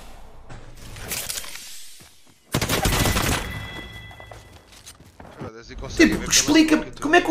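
Bursts of gunfire and shattering impacts in a first-person shooter, rapid volleys alternating with quieter gaps, while players talk excitedly over the shooting.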